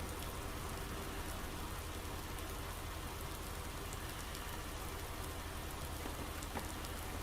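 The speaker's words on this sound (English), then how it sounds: "I know it's not normal practice to spread fertiliser in the rain like this" Rain falls in Farming Simulator 19 while fertiliser is spread in a field, a steady, even hiss of drops with no talk over it.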